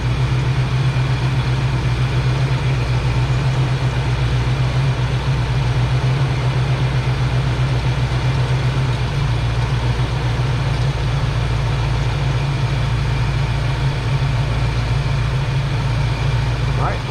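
A Ford Mustang Foxbody engine idles steadily after a throttle screw adjustment, a loud, constant low rumble with an even hum that continues unchanged throughout.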